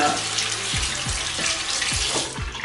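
Running tap water splashing steadily into a sink while someone wets their face during a nighttime skincare routine, a close continuous rush with a few soft splashes.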